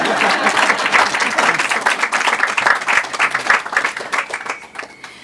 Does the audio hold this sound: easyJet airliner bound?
no